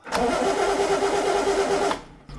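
A car engine cranks loudly and steadily for about two seconds right after the ignition is switched on, then abruptly stops, leaving quiet background with a faint low hum.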